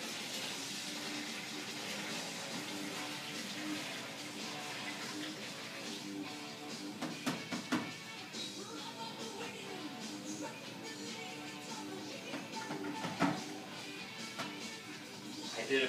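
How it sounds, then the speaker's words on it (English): A mixed ingredient solution pours into a primary fermenter holding blueberries for blueberry wine. A faint, steady wash of liquid runs for several seconds, with a few soft knocks and splashes near the middle. "I'm going to take this solution of ingredients and I'm going to throw it in the primary fermenter with the blueberries"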